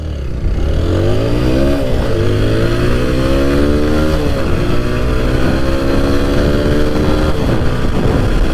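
A TVS Apache 160 4V motorcycle racing, with its engine loud and close as it revs hard through rising gear changes, the pitch climbing and dropping repeatedly under steady wind noise.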